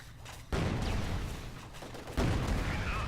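Gunfire in Company of Heroes 2, a World War II strategy game, with Soviet forces firing on a tier 2 enemy structure: dense, loud bursts of shots and booms, with sharp jumps in volume near the start and again two seconds in.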